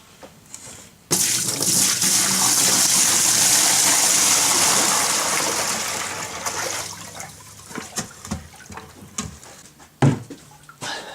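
A bucket of water poured into a Flex Seal–coated livewell of a row boat: a sudden loud gushing splash that runs for several seconds, tapers off, then gives way to drips and small knocks.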